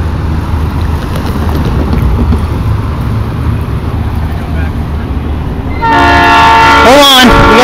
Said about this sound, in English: Hold on, we got a train coming.